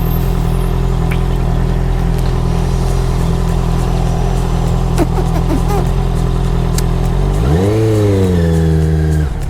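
A restricted A2 2019 Honda CBR 650R motorcycle engine runs close by during a ride with a steady, strong drone. Near the end the revs rise and fall in a clear sweep.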